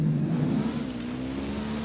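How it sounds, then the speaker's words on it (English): A vehicle engine revs in the Ghost Recon Wildlands video game, a continuous mid-pitched motor drone that rises slightly in pitch, moderately faint and alone. "I'm hearing engine noise."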